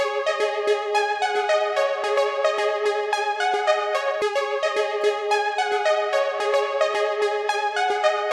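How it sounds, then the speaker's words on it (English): A bright, dense synthesizer plays busy rapid chords and arpeggiated notes continuously, shimmering with effects, loud and close with no voices. "let's now go to the synthesizer sound."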